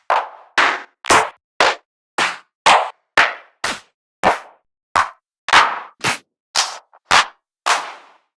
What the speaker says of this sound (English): Let's try to find one more clap with a longer decay.